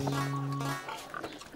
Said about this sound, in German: Das ist unser Schwein